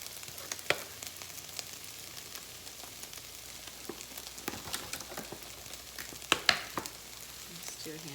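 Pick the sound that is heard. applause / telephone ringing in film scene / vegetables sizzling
vegetables sizzling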